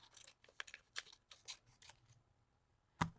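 Scissors snipping paper pieces for mixed media collage art cards, a quick run of short crisp cuts close by, then a pause and one louder final snip, with no talking.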